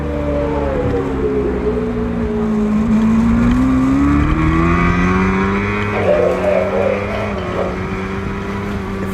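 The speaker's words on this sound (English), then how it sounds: "Jace Haskew may be leading this race right now" Superbike racing at Grattan brings a loud, continuous engine whine with rising and falling pitch as machines accelerate and shift, with several engines overlapping near the track.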